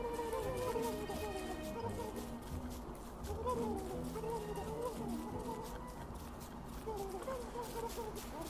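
Turkey gobbler calls from Don't Starve, a run of clucking, fowl-like gobbles repeating steadily over a dense bed of game music and ambient noise throughout.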